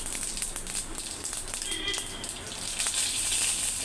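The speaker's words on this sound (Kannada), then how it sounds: "ಸ್ವಲ್ಪ ಸಾಸಿವೆ ಹಾಕ್ತೀನಿ ದಾಲ್ಗೆ, ಜೀರಿಗೆ ಹಾಕ್ತೀನಿ, ಆಮೇಲೆ ಒಂದೆರಡು ಒಣಮೆಣಸಿನ್ಕಾಯಿ ಹಾಕ್ತೀನಿ" Mustard seeds, cumin and dry red chillies sizzling and crackling in hot oil for a dal tadka, a steady frying hiss with small pops, fairly faint and close.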